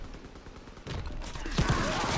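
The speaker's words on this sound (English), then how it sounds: "got on a mounted machine gun, not the best idea of my life" Mounted machine gun in Call of Duty WW2 firing bursts of rapid gunfire, loud and close, with continuous battle noise building after the first second.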